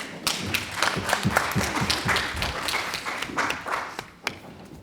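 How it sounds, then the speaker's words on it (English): Scattered applause at a Board of Education meeting, a modest group clapping at an irregular pace, with distinct individual claps and a few thuds, fairly close by. "So one more applause, please."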